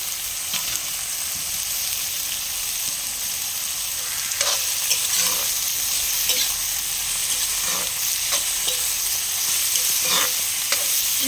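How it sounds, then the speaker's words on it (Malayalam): Onions, ginger, garlic, tomatoes and green chillies frying in a pan for a chicken curry while a spoon stirs them, with a steady close sizzle broken by repeated scraping stir strokes. "ഇനി ഇതെല്ലാം നല്ലോണം ഇളക്കിയെടുക്കണം"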